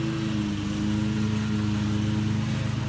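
A lawn mower cuts grass nearby, its engine droning in a steady, unbroken hum throughout with no talking.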